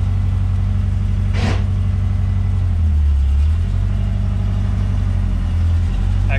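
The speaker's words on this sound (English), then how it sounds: "Go take this thing for a test drive." A Porsche 914 with a swapped-in Subaru engine idles and then pulls away, a steady low drone with a small rise in revs midway and a brief sharp noise near the start, loud and close.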